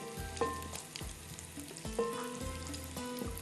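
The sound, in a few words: drumstick kebab frying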